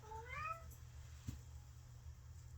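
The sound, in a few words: cat meowing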